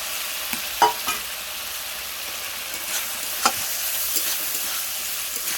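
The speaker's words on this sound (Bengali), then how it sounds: "আলুটা দিয়েও আমি বেশ কিছুক্ষণ কষে নেবো" Clams and potatoes sauté for a spicy red clam dish, a constant hissing sizzle with occasional sharp spatula knocks against the pan, close and uninterrupted by voices.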